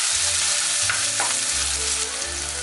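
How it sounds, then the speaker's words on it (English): Egg chow chow rice frying in a pot gives a steady, dense sizzle that runs the whole time, with a few brief stirring scrapes partway through. "it is almost fried"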